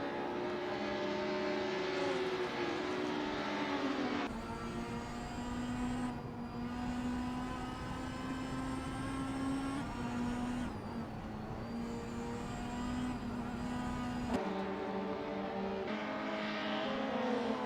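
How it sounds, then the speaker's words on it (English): Race cars in a video game scream around BTCC Speedway, high-revving engine whines rising and falling through gear changes as several cars pass in overlapping waves, loud and continuous, no voices. "Let's see these R-driven race cars tear up the track."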